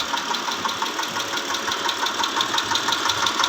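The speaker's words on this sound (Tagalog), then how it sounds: "meron lang knocking sound." A 2010 Mitsubishi Pajero V6 with the 6G74 engine, idling with a rapid, steady metallic ticking knock over its running hum, heard close to the engine bay at moderate level.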